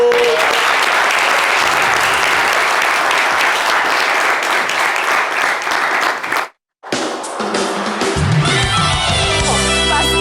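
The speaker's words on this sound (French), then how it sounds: "Je vais vous demander d'accueillir avec faste, avec un tonnerre de bruit, d'ovation, Zozo." Studio audience giving a guest a dense, loud ovation of sustained applause with some cheering, cut off abruptly by a brief silence before music takes over.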